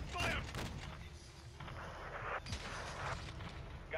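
RPG rocket fire and heavy explosive blasts in the video game Call of Duty: Modern Warfare II, with loud booming bursts and a continuous rumble of gunfire and battle noise. Voices talk over it.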